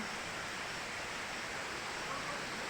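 Falling water from a waterfall on a hiking trail roars as a dense, steady rush of broadband noise, loud and continuous for the whole moment, with no words spoken over it.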